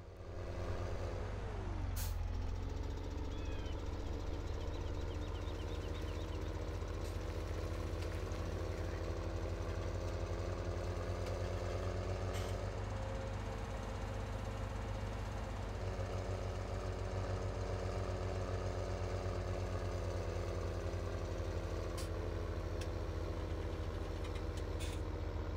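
A farm vehicle's engine idles steadily in Farming Simulator 17, a loud, even drone with a brief hiss and pitch shift near the start and faint clicks along the way, with no talking.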